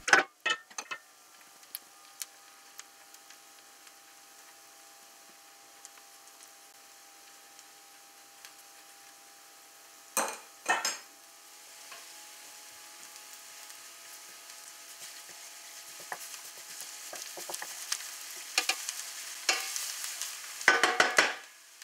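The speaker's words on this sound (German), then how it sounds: "dann erhitzen wir die Pfanne etwas mehr, weil jetzt werden wir Puderzucker karamellisieren" Powdered sugar caramelizing over higher heat in a hot pan with softened onions gives a steady low frying hiss, broken by several louder stirring scrapes and sizzling bursts that grow busier toward the end.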